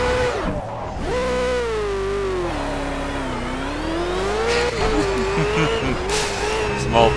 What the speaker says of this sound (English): Small burnout. Hoonigan style.